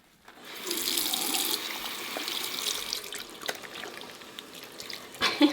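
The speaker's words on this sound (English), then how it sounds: "let's get this rinsed off" A sink faucet runs steadily as soap lather is rinsed off hands, giving a close, hissing splash that shifts and sputters slightly as the hands move under the stream.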